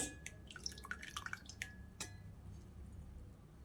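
Water drips and trickles from soaked soya chunks draining through a kitchen strainer into another bowl, with several quick, clear drops early on that then fade to a soft, steady patter.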